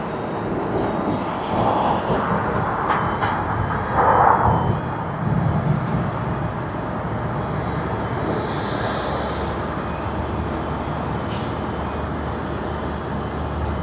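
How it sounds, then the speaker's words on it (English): A Japan Airlines jet arriving at Tokyo Haneda Airport, with a broad, steady engine roar that holds at an even level from start to finish and swells slightly for a moment midway. "we have a Japan Airlines flight that has just come in"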